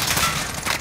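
Gunfire in the video game Call of Duty Warzone on Rebirth Island, a short dense burst of rapid shots, fairly loud and continuous, with no talk.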